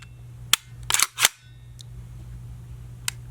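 Sharp dry-fire trigger clicks from a Ruger LC Carbine during a function check: a single click, a quick cluster of snaps, then two fainter clicks spaced apart over a low steady hum, close and fairly quiet.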